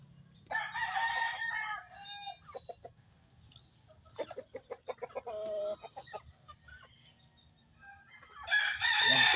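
Fighting rooster (gamecock) crowing up close, with several loud, drawn-out calls separated by pauses, heard clearly against a quiet background.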